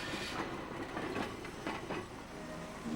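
Hong Kong's Peak Cable Tram climbing toward the top station, a steady rumbling rail clatter with rhythmic clicking of wheels, moderately close and continuous, no voices.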